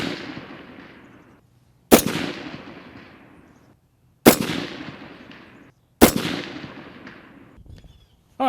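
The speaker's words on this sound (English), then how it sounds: "All right, Cleland, give me a couple shots on the steel" Rifle shots fired at a steel target on a range: three sharp, loud single reports several seconds apart, each trailing off in a long outdoor echo, with a fourth shot beginning right at the end.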